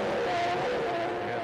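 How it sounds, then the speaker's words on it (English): A 1993 Formula 1 race car at the Brazilian Grand Prix drives away on slick tyres, its engine running with a deliberate misfire under traction control. A steady, fairly loud engine drone with a sustained tonal whine, no talk. "Traction control working with the misfire as Damon goes away, but that's a deliberate misfire"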